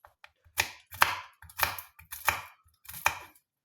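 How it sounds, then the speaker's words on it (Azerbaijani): Knife chopping walnut kernels on a board for a carrot salad, five crisp evenly spaced strikes about half a second apart, close and distinct with no talk. "qozu da belə doğradıq və əlavə edirik salatımızın üzərinə"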